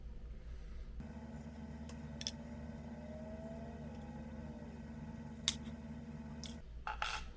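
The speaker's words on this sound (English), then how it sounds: "Just cut those with a regular old pair of scissors." An ordinary pair of scissors snips thin phosphor bronze sheet for a model railroad turntable. A few faint, brief cuts sit under a steady low electrical hum.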